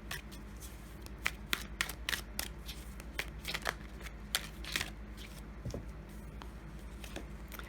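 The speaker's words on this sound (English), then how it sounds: "Let's draw a few more oracle cards before I get into the tarot." Oracle cards being shuffled by hand, a run of crisp papery riffles and slaps in irregular bursts, close and clear over a low steady background hum, with no voices.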